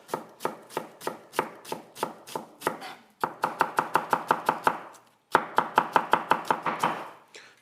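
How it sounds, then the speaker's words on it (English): A knife chopping onions on a board, with brisk, evenly spaced strokes in two long runs broken by a short pause, close and crisp with no talking. "There we go, onions chopped"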